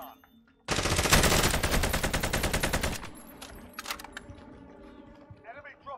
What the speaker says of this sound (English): They're shooting in.